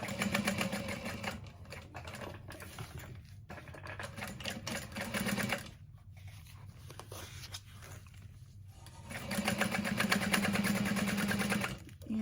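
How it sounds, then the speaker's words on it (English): Sewing machine top stitching through folded vinyl handbag layers and lining, running in steady rhythmic bursts with brief pauses between runs, close and clear with no talking. "Now I can fold those layers together and top stitch."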